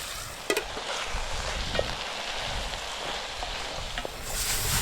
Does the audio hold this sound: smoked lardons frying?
yes